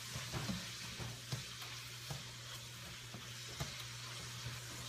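Soft steady sizzling of food being stir-fried in a pan, with occasional light clicks of a utensil against the pan and a low background hum.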